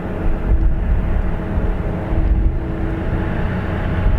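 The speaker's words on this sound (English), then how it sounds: "Next is a BA Embraer off to London City." A British Airways Embraer jet taking off from Dublin Airport bound for London City, a steady broad roar heard from a distance, loud and continuous without talk.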